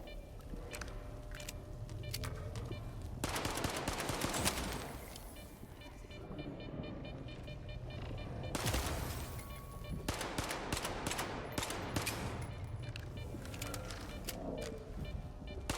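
Repeated bursts of automatic gunfire in STALKER 2, several sustained volleys of rapid shots separated by short lulls, loud and close, with rumbling echoes between bursts.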